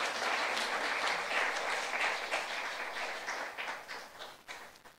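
Applause from a church congregation during a youth-group sermon: dense, sustained clapping filling the room for about five seconds, loud at first and thinning toward the end, with no one speaking.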